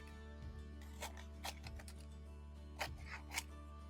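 Scissors rough cutting apart fabric pieces for quilt applique, several soft snips in small clusters, close and quiet over a steady low hum.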